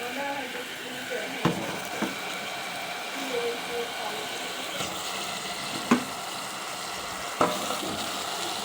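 Leafy greens go into a hot pan with spiced dried Bombay duck fish and sizzle steadily up close. Occasional sharp scrapes and taps of stirring punctuate the continuous frying hiss.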